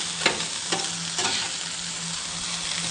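A spatula scrapes and stirs pork and chicken fried rice on a Blackstone griddle, with a few distinct metal scrapes over a continuous loud sizzle.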